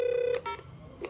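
Dial tones on an extension of a CCL EPABX 108B office telephone exchange: a steady tone is followed by a few short keypad beeps, close and moderately loud with no talking.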